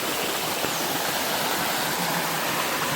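Water from a blocked natural stream flows into a farmer's onion storage shed in Pimpri Pendhar, a steady, loud rushing wash with no voices.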